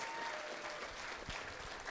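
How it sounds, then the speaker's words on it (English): Audience applause at a charity gala fundraiser auction, steady clapping from a crowd filling the whole moment at moderate level, with faint voices mixed beneath. "Round of applause"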